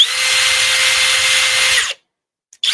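A Flex power tool whirs steadily at close range and high volume, then cuts off abruptly, followed by a brief near-silence before it begins to spin up again.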